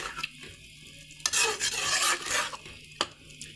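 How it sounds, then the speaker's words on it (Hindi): Aloo gobi matar masala of potato, cauliflower and peas being stirred and fried in a pan, with sizzling under repeated spoon scrapes and a few louder clatters near and alone. "या हम इसको 1 से 2 मिनट के लिए इसको हम भूनेंगे।"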